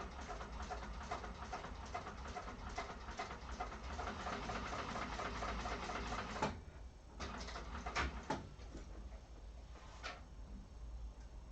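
A sewing machine stitches steadily across the raw edge of a handbag in a class setting, running continuously for about six seconds, then stopping, followed by a few short bursts and quieter handling sounds.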